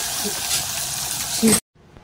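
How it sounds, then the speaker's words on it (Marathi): Oil sizzles and crackles briefly as garlic and curry leaves hit the hot pan, then the sound cuts off abruptly into near silence. "छान तडतडली, लसूण आणि कढीपत्ता फोडणी"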